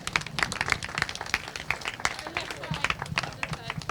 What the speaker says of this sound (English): Huge round of applause, please, for fourth place Oliver Rowland Motorsports rookie, Jacob Ashcroft.